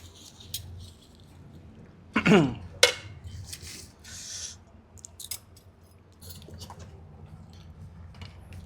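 Cutlery scraping and clinking against a plate as a salad is stirred at a restaurant table serving grilled goat, a few sharp metallic scrapes among soft rustling and squishing, close up with quiet room noise.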